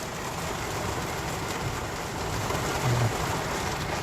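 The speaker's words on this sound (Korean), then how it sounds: "비가 엄청나게 오고 있습니다" Heavy rain pours down steadily in a dense, even roar, heard close from inside a garage or storeroom next to a parked car, with no pauses and no voices.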